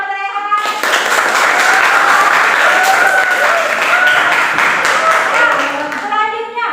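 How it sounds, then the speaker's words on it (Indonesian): Classroom applause, a group of students clapping hands together in a bright, fairly close burst that swells quickly and holds steady before fading, with voices faintly audible beneath. "Tepuk tangan buat Rehan."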